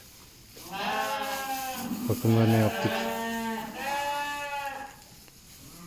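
Suffolk sheep on a farm, including a 9-10 month old male lamb, bleat in several loud, drawn-out calls close by while someone talks.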